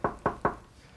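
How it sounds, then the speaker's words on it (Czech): Three quick knocks on a door, evenly spaced and close by, followed by quiet. "Klepeme na dveře."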